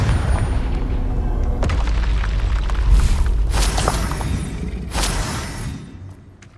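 Confringo fire spell blasts from Hogwarts Legacy land in a run of booming explosions, with sharp impacts at intervals over rumbling debris that slowly fades toward the end.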